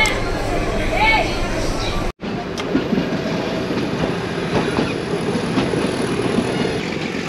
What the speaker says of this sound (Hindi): हम लोगों की टॉय ट्रेन आ चुकी है, ये हमारी टॉय ट्रेन है, आप देख सकते हैं।